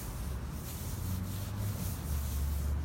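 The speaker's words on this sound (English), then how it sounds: "Be generous with the rub. Basically you can't over season it. Because you're gonna rub it down." Hands rubbing a dry seasoning rub into a raw brisket, a steady, close, soft scraping and rubbing that runs continuously without talk.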